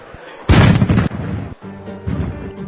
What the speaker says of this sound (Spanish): un estruendo llamó la atención de quienes se encontraban en los barrios aledaños a la fábrica